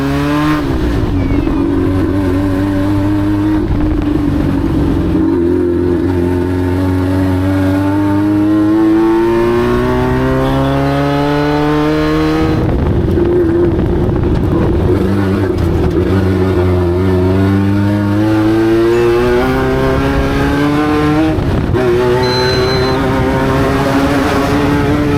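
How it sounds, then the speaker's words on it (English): Race car engines scream during a tough long-distance race, loud rising and falling revs sweeping up repeatedly in close waves, with horns blasting amid the roar. "The engine is screaming and horns are blasting"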